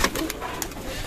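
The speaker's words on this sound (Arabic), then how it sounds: "كده يا جدعان الحمام بيحط اهو" Pigeons cooing as they land on a loft, several soft calls with sharper flutters and wing claps, close by and with no speech.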